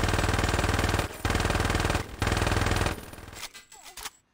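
Sustained automatic gunfire in Saints Row 2, loud rapid bursts broken by two short pauses, then tapering into scattered fainter shots and debris noise at the end.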